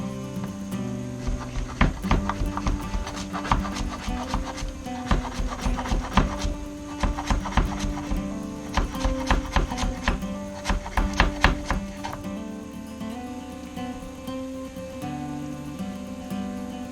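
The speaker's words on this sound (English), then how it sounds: "And you just get to slicing." A knife slices a tight bundle on a cutting board while making spot prawn fettuccine Alfredo, with quick, crisp, close chops in uneven rhythmic bursts for about ten seconds before settling into quiet background.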